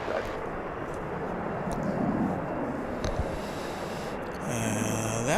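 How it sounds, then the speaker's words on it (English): An American Airlines Airbus A321 arriving at DFW International Airport from Oklahoma City, its broad, steady jet roar held loud throughout and rising in a whining engine tone near the end. "American 1562 coming in from Oklahoma City, an Airbus A321"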